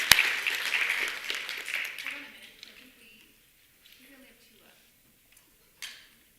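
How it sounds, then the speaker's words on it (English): Applause for the finalists at an elementary school spelling bee, a burst of crowd clapping that fades out within a few seconds, followed by quiet with faint talk and a brief knock near the end. "everyone give these ladies and gentlemen a big round of applause"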